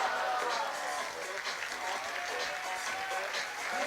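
At a bouldering World Cup final in Millau, a large crowd keeps up continuous applause and cheering, a broad wash of noise heard from a distance under a commentator's voice.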